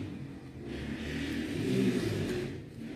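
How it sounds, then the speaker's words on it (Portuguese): Car traffic rushes past on a busy city avenue outside a home, a steady broadband roar that swells as a vehicle passes close and then recedes, with no talking. "aqui é a avenida, toda hora passa carro"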